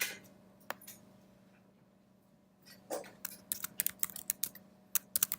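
Rapid clicking of a computer keyboard as a formula is typed, a lone keystroke early on, then bursts of close, crisp key taps over a steady low electrical hum.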